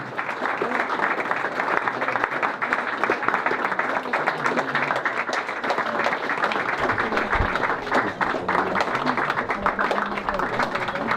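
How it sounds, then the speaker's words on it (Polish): Steady, loud applause from an audience for charity runners and their sponsors at a fundraising run summary event, dense clapping sustained throughout without a break. "Wielkie brawa dla wszystkich biegaczy, którzy wybiegali to i dla wszystkich sponsorów"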